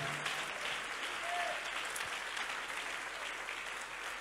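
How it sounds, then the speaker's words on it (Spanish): A church congregation applauds during a morning service, giving a steady wash of fairly faint clapping that holds for a few seconds with a little murmur underneath. "Alguien aplaude al Señor con gozo esta mañana."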